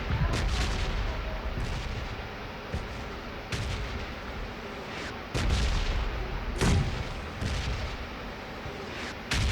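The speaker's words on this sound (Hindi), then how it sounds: "अब मैं नेड मारता हूँ जिससे हल्का सा डैमेज पड़ता है उन्हें।" Grenade blasts and gunfire in the mobile game PUBG Mobile Lite, a run of sharp booming impacts and shots at irregular intervals over constant game noise.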